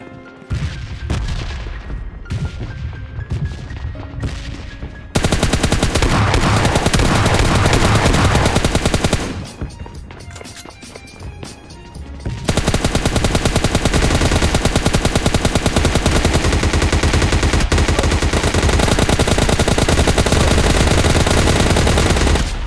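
Sustained automatic gunfire in a mobile shooter game, long loud rapid-fire bursts with a brief lull of lighter, spaced shots between them, all close and intense.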